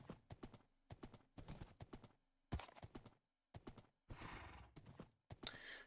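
Hooves clip-clop in quick bursts of sharp taps from a horse in Minecraft, the blocky video game, pausing briefly between runs, one stretch blending into a rougher noise burst, with no voices.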